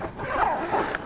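A zipper on a bivy bag's mosquito net is pulled open in one quick, close, rasping stroke with a few uneven catches, no talking over it.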